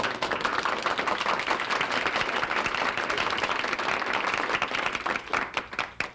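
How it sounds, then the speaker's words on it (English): A studio audience at a 1967 televised mentalism show breaks into sustained applause, dense, bright clapping from many hands at a steady level throughout, thinning slightly toward the end. "It never makes me nervous to listen to applause"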